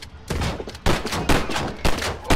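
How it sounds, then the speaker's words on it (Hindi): Rapid bursts of gunfire in the video game Gangstar New Orleans, several loud volleys cracking out in quick succession with brief gaps between them, close and sharp with no talking. "फालतू में गोली चला रहे हैं"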